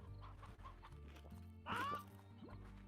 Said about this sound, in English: A chicken being munched, apparently.